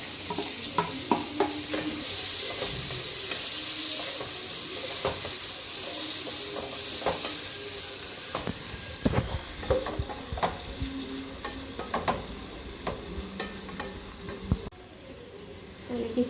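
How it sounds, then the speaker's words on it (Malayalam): Three medium onions and two green chillies, salted, sizzle steadily in a hot pan while a spoon stirs and scrapes through them, with a few sharper clinks and a brief stretch of running tap water near the end. "നമുക്ക് സവാള വഴന്നത് ഇളക്കിക്കൊണ്ടിരിക്കാം."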